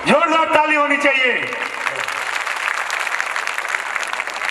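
Audience at a Shrimad Bhagavat Katha gathering bursts into loud, sustained applause, rising right after a chanting voice fades out and continuing as a steady wash of clapping to the end.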